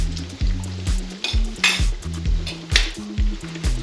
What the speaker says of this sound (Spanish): Es importante freír en abundante aceite, que estén bien cubiertos de aceite